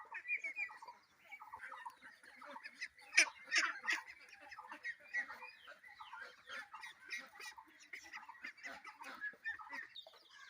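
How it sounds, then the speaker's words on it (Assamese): Young Sonali chicken chicks, about eight days old and kept in a brooder, chirp continuously in a dense, high-pitched chorus of many small overlapping peeps, fairly close and quiet. "সোণালী মুৰ্গী পোৱালি"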